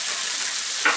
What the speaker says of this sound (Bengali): দিয়ে এগুলাকে একটু হালকা ভেজে নিব,